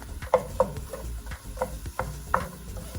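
Meat being stirred in a pan with a wooden spoon, close knocks and scrapes in an uneven rhythm over a low sizzle, several distinct taps standing out, with no talking.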